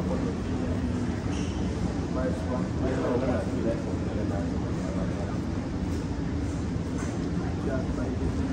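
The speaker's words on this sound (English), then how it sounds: "Here we go, finally the train has arrived." An airport terminal people-mover train pulls in with a steady, continuous rumble and hiss that hold at an even level, with voices murmuring in the background.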